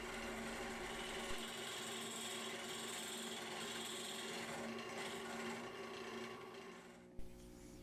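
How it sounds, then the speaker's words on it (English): A lathe tool shear scrapes a spinning canarywood salt cellar lid, giving a steady rasping hiss over the constant hum of the lathe motor, close and continuous, with a brief knock near the end. "And now I'm shear scraping it all smooth."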